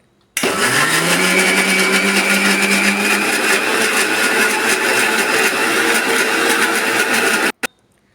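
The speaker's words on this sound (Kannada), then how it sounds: "ಇದನ್ನು ನುಣ್ಣಗೆ ಗ್ರ್ಯಾಂಡ್ ಮಾಡ್ಕೊಂಡು ಬರೋಣ್ರಿ" A kitchen mixer grinder runs continuously for about seven seconds, whirring loud and steady as it purees potato with oil and raw milk for eggless mayonnaise, then cuts off abruptly.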